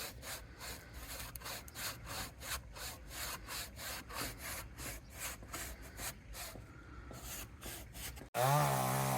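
Rhythmic back-and-forth rasp of a hand saw biting through a tree, strokes steady and close, ending abruptly with a brief different noise.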